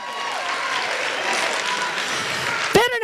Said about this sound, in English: Give them both a round of applause for fighting that one out.